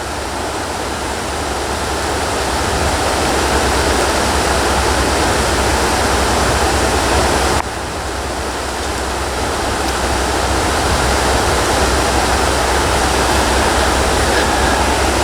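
A river roars in a loud, steady broadband rush that runs unbroken and close by, with only a brief dip partway through.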